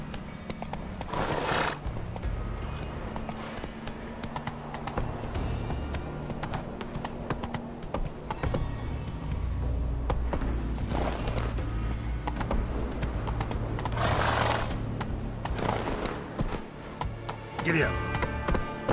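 Hoofbeats of Roach, the horse in The Witcher 3 game, clip-clop steadily over a low music bed, with a couple of neighs breaking through, one near the start and another louder one around the middle.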